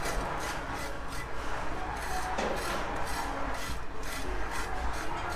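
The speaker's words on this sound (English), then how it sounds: "We're now trimming back out where the doorway is supposed to go." Wood being trimmed back where a doorway will go during house construction in the Philippines, a steady rasping, scraping rub with repeated strokes at close range and a continuous low background hum.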